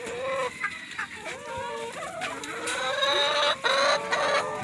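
Chickens on a Jamaican urban farmstead cluck and squawk close by, several birds calling in overlapping bursts against faint background noise, with no talk.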